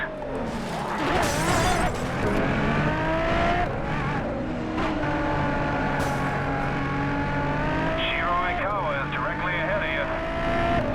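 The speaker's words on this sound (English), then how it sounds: "That pileup nearly messed up my race." Cars racing in the game Race Driver Grid, with engines revving, tires squealing and crash noises through a multi-car pileup, loud and continuous, with a voice talking over the action.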